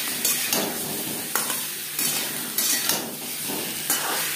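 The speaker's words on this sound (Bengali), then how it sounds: "4-5 মিনিট আলু ভেজে নেব।" Potato pieces fry with salt and turmeric in a hot pan, giving a steady sizzle broken by several sharp scraping stirs at regular intervals, close and fairly loud with no talk.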